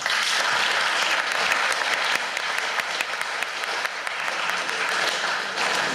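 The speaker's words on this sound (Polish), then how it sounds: "jak Państwo teraz bijecie brawo" Sustained audience applause at an interfaith dialogue gathering, a dense, steady clatter of many hands filling the room from start to finish with no pause.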